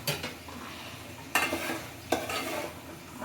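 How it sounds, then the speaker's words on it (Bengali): A lid lifted off a pot of chicken curry cooking on the stove gives two sharp metallic clanks, close and fairly loud, over a steady low sizzle. "এখন ঢাকনাটা উঠিয়ে নিচ্ছি।"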